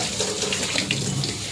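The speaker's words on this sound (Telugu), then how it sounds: "4 గ్లాసుల వాటర్ యాడ్ చేసుకోవాలి" Water pours in a continuous rushing stream into a pot of washed rice, loud and close, with no talk over it.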